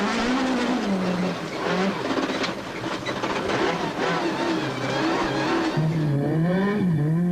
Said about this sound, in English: Bergen is all arms as the Polo struggles for traction.